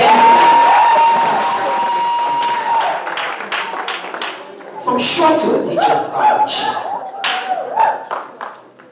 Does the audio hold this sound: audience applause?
yes